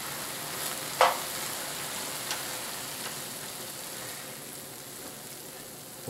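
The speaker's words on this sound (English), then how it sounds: "Get that stirred in just a little bit." Diced jalapeno peppers stirred into browning elk meat for chili, a steady soft sizzle with a spoon scraping the pan a couple of times, close and alone without talk.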